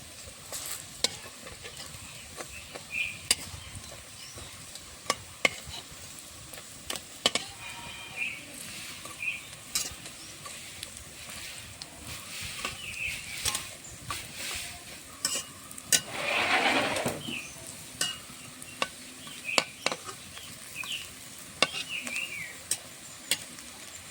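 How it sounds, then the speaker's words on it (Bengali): Egg fritters fry in oil with a low, continuous sizzle. Frequent sharp taps and scrapes come from stirring and turning, and a louder hiss swells briefly midway, with no talk over it. "ডিমের বড়াটা ভাজা হয়ে গেছে, লাল লাল করে ভেজে নিয়েছি"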